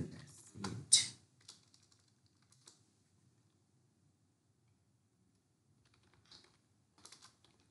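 Computer keyboard clatters with a quick flurry of keystrokes while a query is typed, then falls mostly quiet apart from a few faint, scattered taps near the end.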